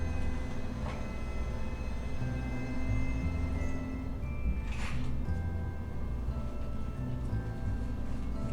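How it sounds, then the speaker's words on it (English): A washing machine runs nearby, giving a steady, continuous rumbling churn that holds an even level throughout, with a brief higher swish near the middle and no talk. "that noise you're hearing, that's the washing machine"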